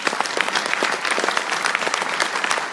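A crowd at a political campaign rally applauds steadily, a dense patter of clapping that stays even and fairly loud from start to finish.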